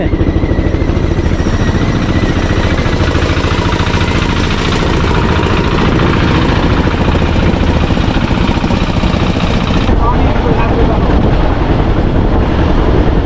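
Engine vans rumble past loudly on a rough rural road in the Sundarbans, with a constant close motor drone and chugging that shifts slightly near the end.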